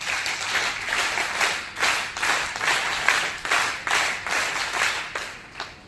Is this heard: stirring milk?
no